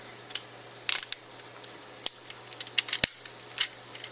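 Sharp plastic clicks and snaps of a LEGO Technic beam being pressed onto a gray axle and pins, a scattered series of small close taps with a quiet background.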